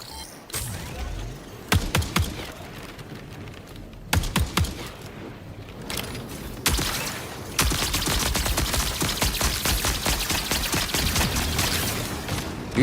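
Gunfire in the video game Marathon: scattered single shots and short bursts, then a long sustained rapid automatic volley, loud and close with no talking.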